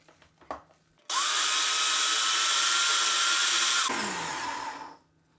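Kitchen blender whirring loudly while mixing a baby-friendly pasta sauce, a steady high-pitched motor burst of about three seconds that winds down, preceded by a few small clicks.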